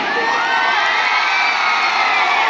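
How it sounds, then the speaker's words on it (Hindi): A huge outdoor crowd of some two hundred thousand at a live Bhojpuri music show roars with cheering, whistles and shouts, a dense sustained wall of noise with no gaps. "एक जो और ताली होनी चाहिए।"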